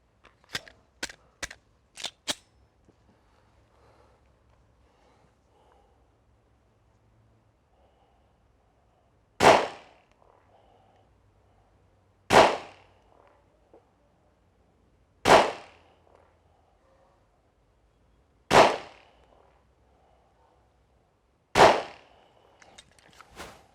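A Glock 17L Gen1 pistol fires five Bullet Master rounds at a 10 m target, five loud sharp cracks spaced about three seconds apart, preceded by a few faint quick clicks.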